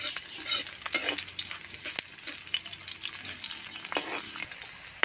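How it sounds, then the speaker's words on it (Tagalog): Onions sauté in a pan after golden garlic for pancit guisado, a close, continuous sizzle broken by several sharp stirring scrapes and clatters of the utensil, with no voices. "Isusunod na lang natin yung ating sibuyas."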